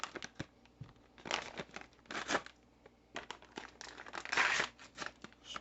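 Paper packet of dry yellow cake mix being torn and crinkled open in a kitchen, a series of close, quiet rips and crackles in irregular bursts, no speech.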